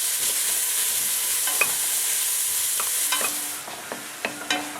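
Butter sizzling in a pan where a chuck roast has been seared, a steady hiss that softens toward the end, with a few sharp utensil clicks and scrapes.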